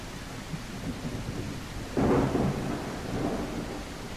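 Thunderstorm in the dinosaur survival game The Isle: steady rain hiss throughout, with a loud thunder rumble breaking in around the middle and rolling on under the downpour.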